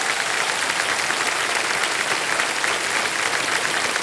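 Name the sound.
studio audience applause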